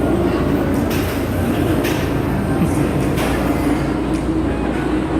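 A steady rumble of an amusement park ride train rolling along its track, empty of riders, with faint rhythmic clacks over a constant, fairly loud background.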